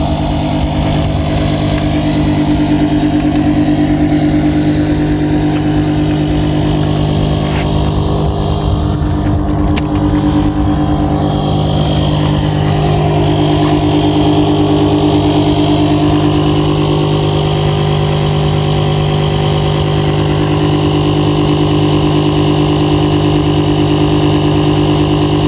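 A Hankei 6 horsepower two-stroke outboard motor runs steadily at a constant speed for the whole stretch, a loud, close, even drone with no talking over it.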